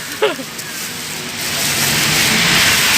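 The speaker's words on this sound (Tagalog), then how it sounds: "It's raining. Raining again." Outdoor rain in Taiwan, a steady broadband hiss that swells and thickens over the three seconds, with a brief voice sound near the start.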